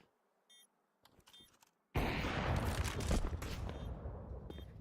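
A Counter-Strike match has a few faint clicks first, then a sudden loud stretch of dense pistol and SMG gunfire that keeps going to the end.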